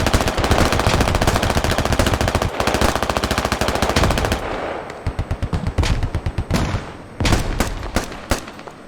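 Automatic rifle fire in the Squad military video game rattles out in loud, rapid sustained bursts, then breaks into shorter separated volleys and single shots toward the end.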